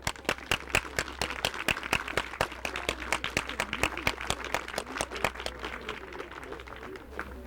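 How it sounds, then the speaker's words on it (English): A small audience at a Hiroshima-Nagasaki commemoration and peace lantern ceremony claps for the event organisers, with sharp individual claps standing out in a moderately quiet, steady round of applause. "they deserve a big round of applause"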